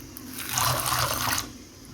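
Water pours into a bowl of roasted field beans set to soak, a short splashing gush that swells and then tapers to a trickle, close and fairly soft.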